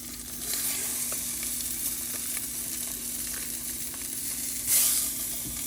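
Chicken sausage breaks apart in a frying pan, a steady close sizzle of frying meat under occasional soft scraping and stirring clicks, with a brief louder hiss near the end and no talking.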